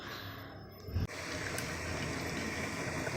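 Water poured into a pan over jaggery while making Tamil payasam, a steady close gush of liquid that starts abruptly about a second in and runs on evenly, with no talking.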